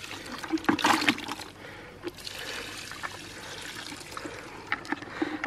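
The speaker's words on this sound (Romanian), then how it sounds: "Așa frumos, luăm puțin apă." Water is scooped up while fishing: nearby splashing and trickling with sloshing bursts, then a continuing dribble of water.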